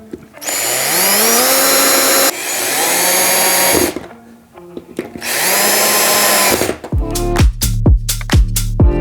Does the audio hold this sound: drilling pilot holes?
yes